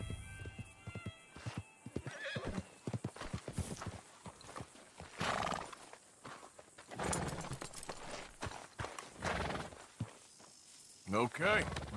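Horse hooves clip-clop steadily in the video game Red Dead Redemption 2 during a bison hunt, an irregular run of close hoof falls under people talking, with a brief whinny near the end.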